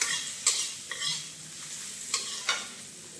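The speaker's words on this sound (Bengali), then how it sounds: "এবার দিয়ে দিলাম কিশমিশ, কিশমিশটা আমি ভেজে তুলে নেব।" Raisins frying in a pan for a navratan korma, a steady close sizzle broken by a few sharp scraping stirs of a spatula.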